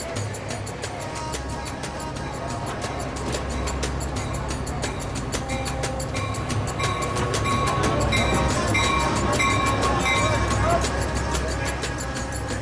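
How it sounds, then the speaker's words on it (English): A night train in Egypt rolls steadily along, a continuous low rumble with rhythmic clicking of wheels on rail joints, heard from inside and growing slightly louder, with speech partly audible. "So I'm catching the 1 a.m. train"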